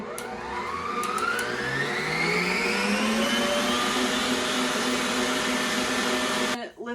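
A stand mixer fitted with a bread hook kneads low-protein dough, its motor whining steadily and rising in pitch as it speeds up, loud and close, then cutting off abruptly at the end.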